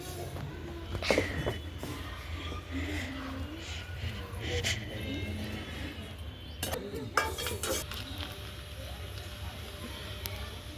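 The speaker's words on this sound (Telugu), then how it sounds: "కేజీ చికెనే కాబట్టి కొన్ని వేయించుతున్నాను" Chicken pieces frying in a pan over a wood-fired stove, a low continuous sizzle with stirring scrapes and a few sharp clinks of a utensil against the pan.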